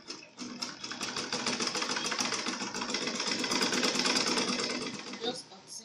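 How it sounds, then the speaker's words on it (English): Sewing machine stitching a seam on an A-line skirt, a close, steady mechanical whir with rapid needle chatter running for about five seconds before stopping. "Then I'm going to place it on the sewing machine and sew down"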